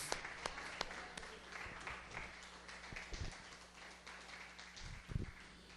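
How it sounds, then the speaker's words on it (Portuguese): A church congregation applauding during a sermon, a soft, scattered clapping spread through the room at low level. "Palmas ao Senhor."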